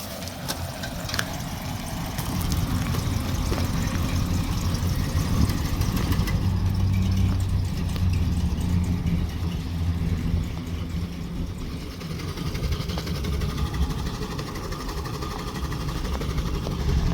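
A 1964 Dodge sedan's engine idles loudly and steadily throughout, with a rough, rumbling exhaust note from a system that needs repair and no voices over it.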